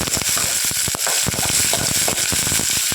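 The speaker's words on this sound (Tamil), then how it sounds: "வெங்காயம் நல்லா ஓரளவு கலர் மாற வரைக்கும் வணக்கி விட்டுருவாங்க" Onions fry and sizzle in a home kitchen pan while being stirred, a steady dense crackle with sharp popping spatters throughout, close and fairly loud with no talking.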